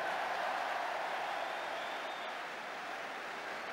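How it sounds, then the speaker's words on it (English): Crowd applause at a Division Two football match between Q.P.R. and Burnley, a steady broadband wash of clapping and crowd noise filling the ground at a fairly constant level with no distinct voices. "Applause from the crowd."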